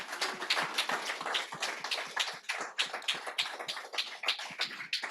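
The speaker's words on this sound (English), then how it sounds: "Let's give a round of applause to Rob and all of the founders who pitched tonight." An indoor audience at a startup pitch night applauds the founders who pitched, a steady patter of many hands clapping at moderate distance for several seconds.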